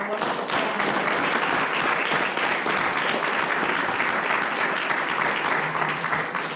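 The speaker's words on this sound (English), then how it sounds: "let's give a round of applause for our wonderful panel." A crowd applauds a panel at the close of a talk on the criminal consequences of addiction, with steady, sustained clapping at full strength throughout and a few voices mixed in.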